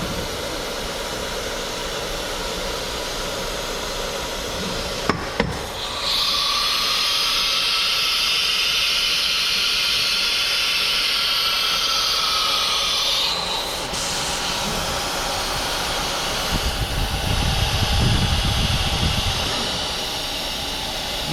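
A CNC router performs an automatic tool change, with a couple of sharp mechanical clicks followed by a sustained loud hiss of compressed air lasting several seconds, then a quieter rumble and a short burst of machine noise.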